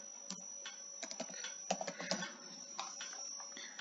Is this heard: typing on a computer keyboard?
yes